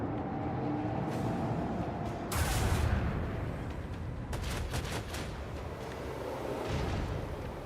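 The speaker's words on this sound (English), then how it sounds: "Oh my god. The missile launchers." Heavy missile launchers firing in a sci-fi strategy video game, a dense continuous barrage of booming blasts and crackling impacts layered over a loud rumbling background, with sharper bursts around the middle.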